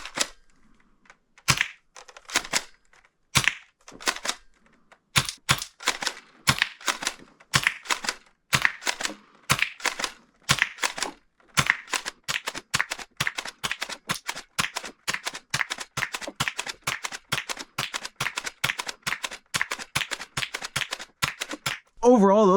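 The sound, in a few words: XShot Hyper Gel Stinger gel blaster pistol firing shots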